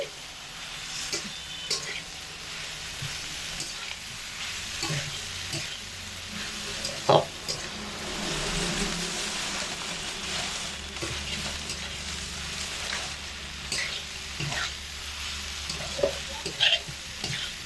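Vegetables for shukto sautéed together on low-medium heat, a continuous gentle sizzle with repeated spatula scrapes and clicks of stirring, close by, with a few faint murmurs of voice.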